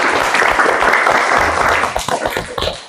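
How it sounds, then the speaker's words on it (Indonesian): A classroom group at an Indonesian junior high school applauds after a dance presentation, a dense, loud, steady wash of many hands clapping that tapers slightly toward the end. "Kita kasih aplaus ya"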